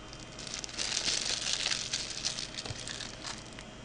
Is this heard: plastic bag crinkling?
yes